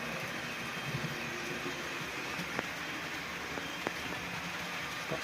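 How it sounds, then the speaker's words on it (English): Three model trains run around a layout, giving a steady low rolling rumble with a few faint clicks from the track. "Got 3 trains running around at the moment."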